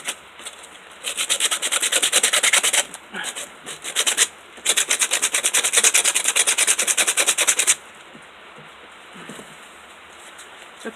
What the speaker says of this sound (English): Fold it and then just start sanding.